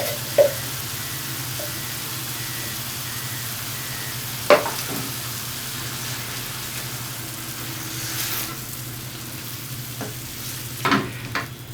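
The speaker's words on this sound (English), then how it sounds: "When your meat is a nice colour, you can add 1 can of tomatoes." Browned meat with a can of tomatoes sizzles steadily in a pan on the stove, a continuous soft fry broken by a few sharp clinks and scrapes of a stirring utensil.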